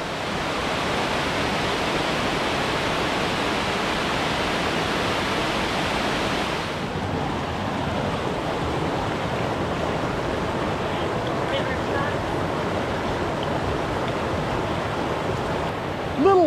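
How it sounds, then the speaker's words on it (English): Steady rushing water from small waterfalls in Pisgah Gorge, a broad continuous roar of small falls or rapids, loud and unbroken, with the texture shifting slightly partway through. "Little waterfalls."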